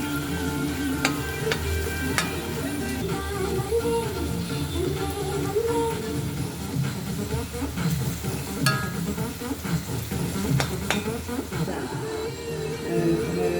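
Chicken thoran with grated coconut fries and sizzles in a pan at close range, with steady crackling broken by occasional sharp scraping stir strokes.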